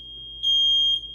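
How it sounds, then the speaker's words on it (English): A household smoke alarm emits one steady, piercing high tone that jumps sharply louder partway through, close to the microphone, over a low background hum. "there my smoke alarm went off"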